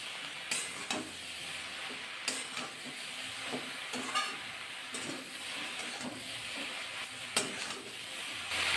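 Fried eggplant being stirred in a pan with salt and turmeric, soft scraping strokes and a quiet sizzle at a low level, with a few sharper clinks of the utensil against the pan.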